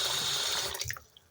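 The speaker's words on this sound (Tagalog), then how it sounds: "hugasan sa malamig na tubig. Para hindi siya magdikit-dikit guys." A kitchen tap runs cold water to rinse cooked spaghetti, a loud steady gushing hiss that cuts off partway through, leaving a few drips and faint splashes alone.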